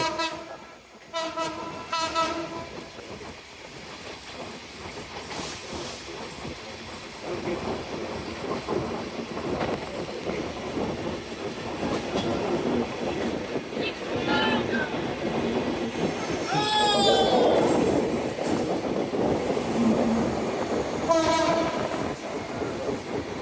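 A train runs on rails through Dhaka near the Sayedabad rail gate: horn blasts open the stretch, then a steady rolling rumble with clattering wheels, brief squeals and later horn calls, all without talk.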